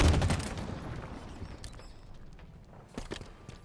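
A loud grenade blast and gunfire in a shooter video game open with a heavy burst, then fade into a quieter tail with a few scattered later reports.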